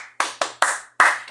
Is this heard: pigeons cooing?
no